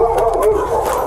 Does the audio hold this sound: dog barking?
yes